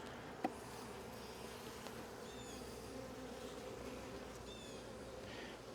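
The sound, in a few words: honey bees buzzing around open hive during inspection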